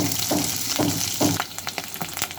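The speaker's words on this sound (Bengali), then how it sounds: "আদা রসুন দিয়ে আর একটু নাড়াচাড়া করে নিতে হবে" Ginger and garlic fry in hot oil while being stirred, giving a loud sizzle with rhythmic scraping strokes that become sharper, quicker clicks toward the end.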